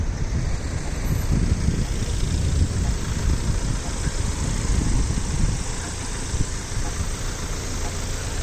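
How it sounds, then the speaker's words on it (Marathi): Cars sit idling at a pedestrian crossing on an Irish road, heard as a loud, steady engine rumble mixed with outdoor wind noise and no clear change from start to finish. "इकडे सर्व गाड्या थांबलेल्या आहेत"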